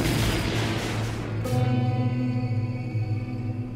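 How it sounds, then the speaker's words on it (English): A film explosion sound effect mixed from missiles, rockets and tanks erupts as a loud, dense roaring blast, then settles into a long, rumbling decay with a humming tonal tail. "For the best explosion sounds, Burtt actually had to mix them from missiles, rockets, and tanks."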